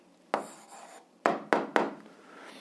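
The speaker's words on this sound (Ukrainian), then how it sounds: "А зараз записуємо відповідь, пишемо відповідь." A pen or chalk strikes and scratches out an algebra answer in four quick, close strokes, with short scraping tails between them and no talk.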